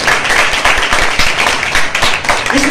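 A church congregation claps loudly and steadily during a sermon, a dense wash of hand claps that keeps going for the whole stretch without a break.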